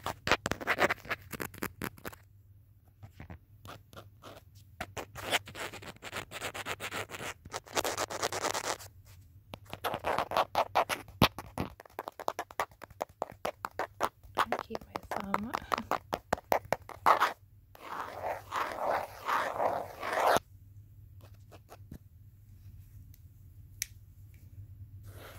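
Fingers tapping and tracing across a phone screen in close-up, quick clusters of light taps and scratchy rubbing strokes broken by short pauses, with soft whispered speech here and there.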